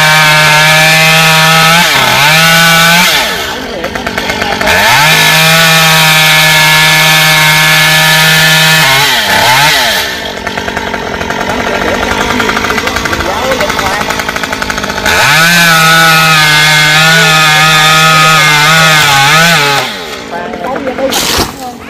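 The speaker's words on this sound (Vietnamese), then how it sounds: "Mà em Cường cũng cưa ra khỏi hàng rào rồi" A chainsaw roars loudly up close, its pitch rising and dropping as it revs and bites into a tree, with brief idling dips in between.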